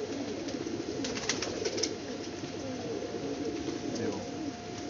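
Pigeons in a loft cooing close by, soft repeated throaty coos rolling over a low steady background hum, with brief chirpy sounds and some faint talk.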